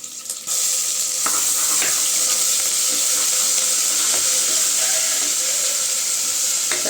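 Curry leaves, small shallots and ginger-garlic paste sizzle steadily in hot oil for a chicken biryani, a dense close hiss with occasional stirring clicks, starting abruptly and continuing loud without talk.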